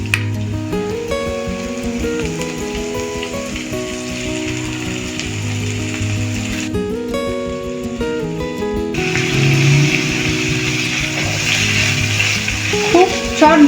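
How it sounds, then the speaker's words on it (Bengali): Chicken pieces frying slowly over a low gas flame in a pan with onions. A continuous close hiss runs throughout, partly masked by steady background music. "গ্যাসের ফ্লেমটা কমিয়ে দিয়ে চিকেনটা আস্তে আস্তে ভেজে নিই।"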